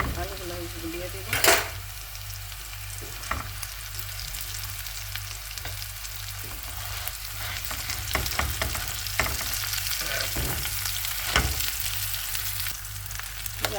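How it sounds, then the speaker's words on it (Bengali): Potatoes tossed into a pan of fried onions, sizzling steadily in oil with a couple of sharp clatters of a spoon against the pan and scraping stirs, close-up throughout. "এই যে পেঁয়াজ ভাজিটা হয়ে গেছে, এখন আলুগুলো দিয়ে দিব।"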